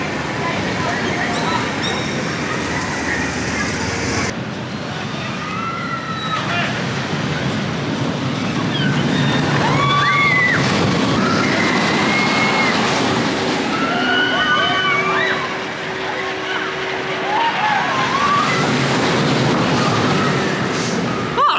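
Onboard ride on the Icon roller coaster at Blackpool Pleasure Beach: loud, continuous roaring rush of wind and track noise with rumbling wheels, rising and falling, while riders scream and shout throughout.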